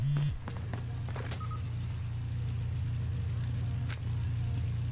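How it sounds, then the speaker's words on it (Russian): A car engine idles steadily in a video game shooter, a low continuous rumble running through the whole stretch, with faint scattered game sounds and clicks above it. "Я слышу, двигло у какой-то тачки заведенное."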